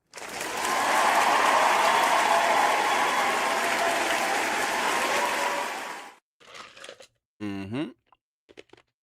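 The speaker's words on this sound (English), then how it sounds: "One more round of applause for y'all." An audience at a live show breaks into a loud, sustained round of applause that fills about six seconds and then stops abruptly, followed by a few short close clicks and rattles.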